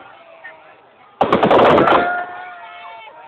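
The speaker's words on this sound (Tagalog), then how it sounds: "Fireworks!" A sudden burst of rapid fireworks pops and crackles, loud and close, lasting under a second before trailing off into background noise.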